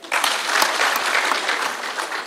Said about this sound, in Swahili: Pigia hao makofi.